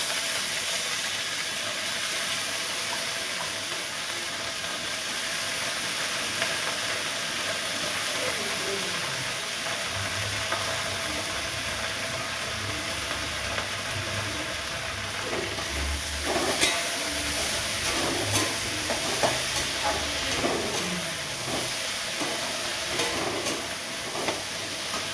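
Cauliflower and potatoes frying in a pan over a low flame give a steady, broad hiss throughout, with occasional clinks and stirring sounds and faint voices underneath.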